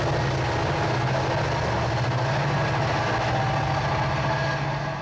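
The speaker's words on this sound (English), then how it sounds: "in between those powerful and noisy 20th century trains" Union Pacific freight trains roll along the main east-west line in Echo Canyon beside Interstate 80, a loud, steady, continuous rumble with droning low tones and grinding wheel noise that never lets up, with no voices.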